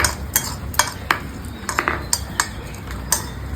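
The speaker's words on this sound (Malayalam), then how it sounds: "നമുക്ക് നല്ലപോലെ ഒന്ന് ഇങ്ങനെ വഴറ്റിയെടുക്കാം" Chillies sautéing in a pan for a fish curry, with a spatula clinking and scraping against the metal in a quick irregular rhythm over a soft sizzle, close by and without talk.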